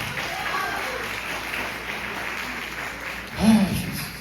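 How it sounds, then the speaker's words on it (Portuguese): Church congregation applauding during a Wednesday evening worship service, a steady broadband wash of clapping with a louder swell near the end and some speech and shouting mixed in. "Aplaude o Senhor"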